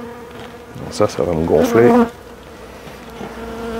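Honey bees from hives with overwintered queens buzz steadily and lively around a beekeeper, a constant insect drone with someone speaking briefly over it.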